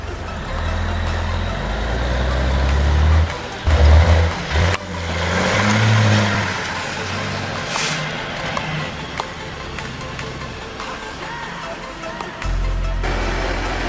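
Logging truck engine idling and rumbling among heavy equipment in a forest, a loud close low drone with a brief surge in the middle and scattered mechanical clanks, no talk.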